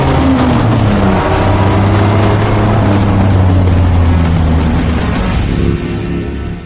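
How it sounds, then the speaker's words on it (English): A Lamborghini LM002's 48-valve V12 engine roars loudly and continuously with a deep, throbbing drone that shifts pitch slightly as it revs, fading a little near the end. "This one with a 48-valve V12 and a 5-speed dogleg manual."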